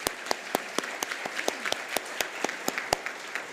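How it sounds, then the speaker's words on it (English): Sparse, scattered applause from a small audience at an annual meeting held at a club, with distinct individual claps in an uneven rhythm, fairly close and clear, no talking. "How about a nice round of applause for everybody?"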